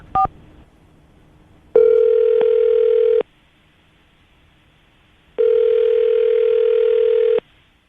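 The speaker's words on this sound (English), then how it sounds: "we'll dial the number. Hope she answers the phone." Telephone call placed on a radio show: a brief dialing beep, then two long, even ringing tones separated by a pause, clear and close.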